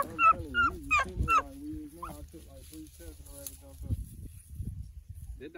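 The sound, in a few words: hunting dog whimpering during a rabbit hunt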